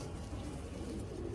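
A brown-necked pigeon on a rooftop gives soft, low cooing, close and continuous with no other voices.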